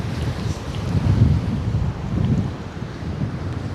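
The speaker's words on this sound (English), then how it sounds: "I can't get over how this breeze is, man" Steady breeze gusts beside open water at a fishing spot, a broad, rushing blow that swells and eases in slow waves, fairly loud against the microphone, with no talking.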